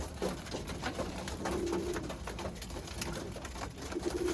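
Birmingham Roller pigeons coo softly after their second feed, with repeated low cooing calls against a busy background of rustling and shuffling in the loft.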